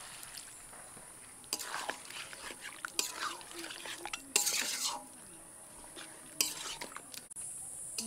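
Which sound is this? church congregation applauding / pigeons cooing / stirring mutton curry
stirring mutton curry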